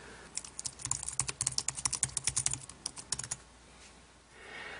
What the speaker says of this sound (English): So now I can start using the keyboard on my iPhone.